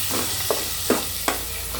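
Ginger garlic paste stirred in a hot pan for a prawn curry, with a steady low sizzle and three or four sharp scraping strokes of a spoon.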